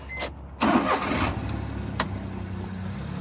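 A Honda Acty kei truck's small engine cranks after a couple of brief clicks, catches with a sharp burst, then settles into a steady low idle close by, with one short knock partway through.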